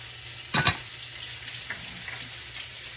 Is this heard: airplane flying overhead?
no